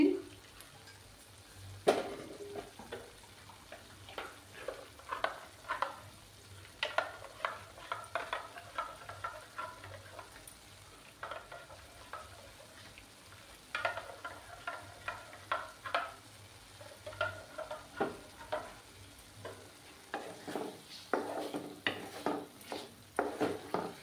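Spices and potatoes sautéing in a pan for a Bengali milk potato dish, with steady frying sizzle and repeated scraping stir strokes of a utensil against the pan throughout, fairly close.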